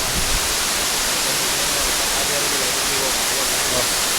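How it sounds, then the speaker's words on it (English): Deep undiscovered waterfall in Sri Lanka, known locally as an 'Ella', roaring as a steady, loud broadband rush of falling water that fills the whole clip without pause. "So this is an undiscovered waterfall."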